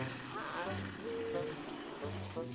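Water sprays and splashes in a cartoon car wash, a hissing gush with bubbling under tonal cartoon effects.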